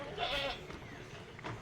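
Goats on a rainy-day farm beside a hut give faint, distant bleats over soft background noise, with no voices.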